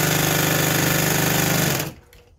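A sewing machine fitted with a walking foot stitches fabric in a loud, rapid mechanical hammering that runs steadily up close for about two seconds, then stops abruptly.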